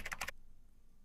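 A quick flurry of computer keyboard keystrokes, about five close, crisp taps in a fraction of a second, then quiet.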